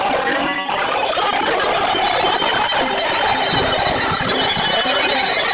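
A dense, chaotic din of Halo fans on Discord cheering and shrieking with excitement, loud and continuous throughout, with many overlapping voices blending into noisy cacophony.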